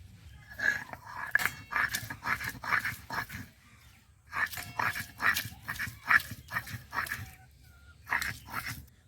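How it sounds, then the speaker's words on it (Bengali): Spinach is ground on a traditional flat grinding stone in bursts of rhythmic, gritty back-and-forth scraping strokes, close and fairly soft, with short pauses between bursts and no voices. "পালং শাকটা একটু জলটা চেপে চেপে দেব এবার শিলে বেটে নেব"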